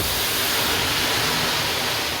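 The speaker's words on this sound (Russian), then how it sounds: "Нажимаем кнопочку. И на камне поливается вода." Water spraying onto hot stones in a sauna in Tartu, Estonia, released automatically at the push of a button, a steady loud hiss and rush lasting throughout without pause.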